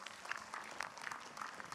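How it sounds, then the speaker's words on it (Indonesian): Studio audience at an Islamic televised sermon session on ablution clapping in a faint, brief patter of applause, with scattered individual claps. "Tepuk tangannya dong Bu."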